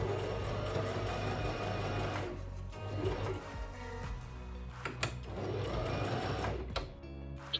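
A sewing machine stitches leather trench coat back panels in close, fairly loud bursts of rapid needle chatter, pausing briefly between runs with soft handling clicks and shifting of the heavy material.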